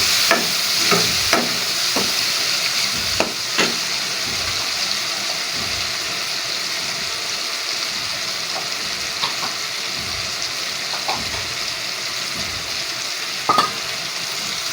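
A steady hiss of spices tempering in hot oil for kaddu chana dal continues throughout, with occasional stirring clinks and scrapes and no talking.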